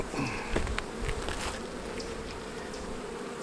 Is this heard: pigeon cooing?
no